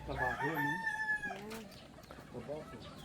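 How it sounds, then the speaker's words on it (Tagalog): Fighting chickens on a farm: a rooster crows once up close, followed by short clucks and calls, and faint background voices can be heard. "fighting chickens"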